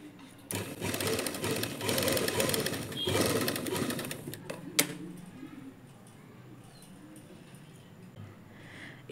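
A sewing machine runs a slanted seam on a lining blouse in a loud, steady whir for about four seconds, then stops with a sharp click, leaving quiet handling and faint rustle.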